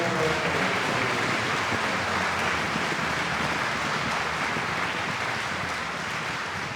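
A large crowd at a patronal feast for the Virgen del Carmen bursts into loud, dense, continuous applause that holds steady for several seconds with no voices standing out.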